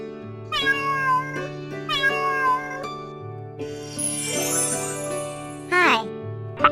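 A cat meows several times in distinct, clear calls, some drawn out and wavering, over light background music on a farm-animal learning track.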